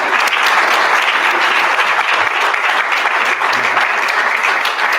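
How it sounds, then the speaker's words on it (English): A gala audience claps for the girls of the PeAK program as they stand, a steady, dense wash of applause holding at full strength throughout, with no voices above it. "I'll give them a round of applause"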